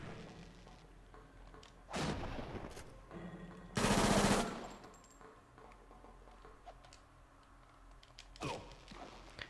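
Fixed gun turrets firing in the video game Fighting Force 2, a few short bursts of rapid gunfire at moderate distance, the loudest around the middle, separated by quieter game ambience.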